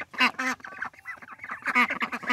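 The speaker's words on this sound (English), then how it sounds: "Hey guys, here's our ducks. They're doing good, look." Several pet ducks kept alongside backyard chickens quack in close, loud bursts, a short run of overlapping calls with a brief lull in the middle.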